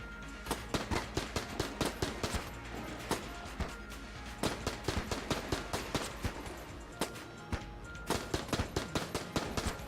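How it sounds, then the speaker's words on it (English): Loud, dense gunfire from the game Enter the Gungeon pours out in rapid, overlapping bursts with only brief gaps, a near-constant barrage of shots with no clear voices. "Yeah, shoot him!"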